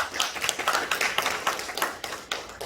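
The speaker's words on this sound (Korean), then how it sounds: "우리 격려의 박수 한번 드리겠습니다" A church congregation claps in encouragement during a Sunday service, a dense, lively burst of many hands clapping together for a few seconds.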